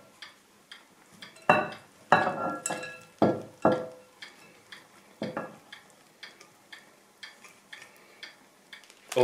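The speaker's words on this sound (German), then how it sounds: "So, jetzt kommen erstmal die Spaghetti mit dem Gemüse rein" Spaghetti with vegetables being dropped and pressed into a baking dish for a vegetable bake with bratwurst, a series of soft wet thumps and clinks of utensil on dish, irregular and close, fading to lighter taps.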